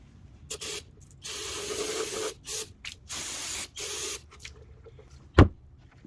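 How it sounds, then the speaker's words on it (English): An aerosol can of brake cleaner sprays into a Cavalier fuel tank in several hissing bursts of a second or so each, separated by pauses, ending with a sharp clunk. "I'm going to clean out this with some brake cleaner"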